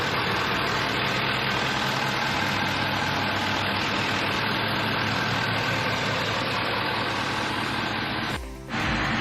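A 2020 Ford F350 Super Duty truck engine idles with a steady, loud mechanical rumble and whir, even and unbroken for most of its length before a brief dip near the end.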